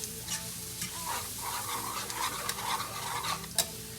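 A flour mixture cooks and sizzles in a pot, with a spoon scraping and stirring through a soft steady frying hiss and occasional clinks against the pot.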